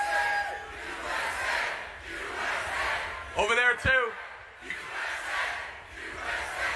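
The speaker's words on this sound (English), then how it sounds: "We always started with the USA chant." A large crowd at a Turning Point USA rally chanting in swelling, rhythmic waves of massed voices, heard from a distance, with a brief spoken interjection partway through.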